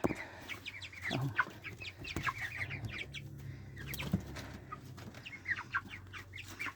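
Thirty-day-old white broiler chickens clucking in a group: overlapping soft clucks and chirps with occasional wing flaps, fairly faint and continuous, with no one speaking.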